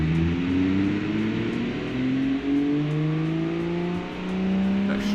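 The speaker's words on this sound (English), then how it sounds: "let's go ahead and start the actual dyno test, and this one's automated, so it'll do it for you." Simulated car engine running through an automated dyno test in the Automation car tycoon game, revving steadily upward with rising harmonic whine over about five seconds, loud and continuous, no talking.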